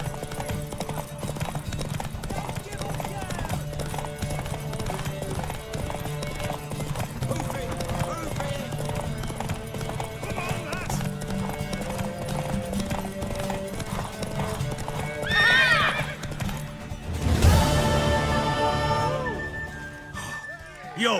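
In The Witcher 3, a horse's hooves clop in a steady rhythm under ongoing character dialogue, and a loud neigh rises near the end before the hoofbeats resume.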